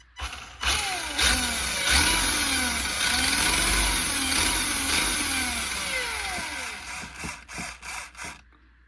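A small electric motor from a Kyosho Beetle RC car whirs under a steady blast of compressed air, its pitch sweeping up and down in waves before the air cuts out in a few short bursts at the end.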